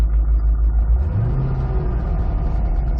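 A 2005 C6 Corvette revving in place, a deep low engine rumble that swells briefly and holds steady, heard close and alone.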